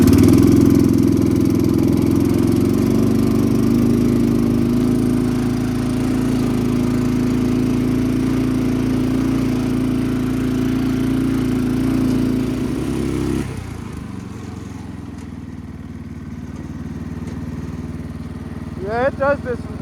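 A homemade mini jeep's small engine runs steadily and loud for about thirteen seconds, then drops to a quieter idle with faint clatter near the end.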